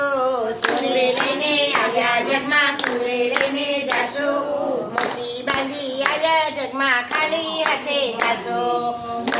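Hands clap in a steady rhythm in time with a Gujarati devotional Radhe Radhe bhajan, close and clear, while voices sing the song throughout.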